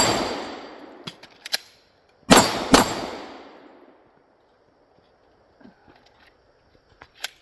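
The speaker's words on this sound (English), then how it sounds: "get that magazine in there a little bit more efficiently" Pistol magazine reload drill: two sharp metallic clacks close together near the start, with a few lighter clicks and handling knocks later, nearby and alone with no talk.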